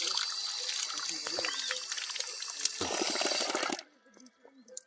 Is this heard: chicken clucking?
no